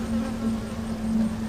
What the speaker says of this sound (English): That's just a mean bunch of bees over there.